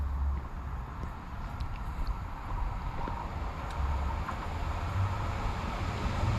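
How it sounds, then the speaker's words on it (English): A train approaching a station on the Wolverhampton to Shrewsbury line rumbles steadily with a low, continuous drone, gradually building in loudness as it draws nearer, with faint clanks and hiss above. "We have a train approaching, which is heading to Shrewsbury from Birmingham New Street."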